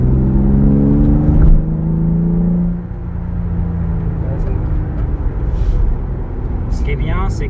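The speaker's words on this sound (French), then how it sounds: "t'as le silencieux, tout est immédiat, donc c'est fait pour faire un peu de bruit quand même" A Nissan 350Z with a V6 engine and stainless exhaust revs loudly and then drops to a deep, steady rumble. A brief whine rises near the end.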